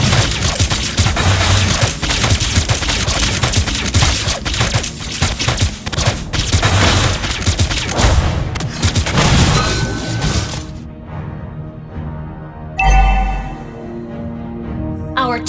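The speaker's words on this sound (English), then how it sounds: "Our turret has been destroyed." A turret is destroyed in the Mobile Legends battle game amid a dense burst of crashing, smashing and booming effects. The effects drop away to a quieter tail broken by one more loud hit near the end, with game voice lines over parts of it.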